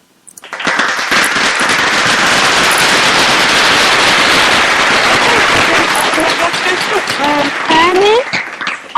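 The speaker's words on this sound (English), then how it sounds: "Please give everybody that have came a round of applause" A live show audience gives a long, loud round of applause with dense crackling claps, cheering and whoops, people shouting over it toward the end.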